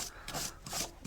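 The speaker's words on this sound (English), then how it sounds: "Got me a little wire brush. I'm just cleaning out the grooves here." A small wire brush scrubs rust and corrosion out of the grooves of a brake part on a 2011 Impala, four quick rasping strokes in a back-and-forth rhythm, close and alone.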